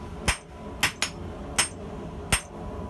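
A hand hammer with a custom-shaped handle strikes sharply during wine tonging, five crisp ringing blows at an irregular pace, close and clear over a quiet steady hiss.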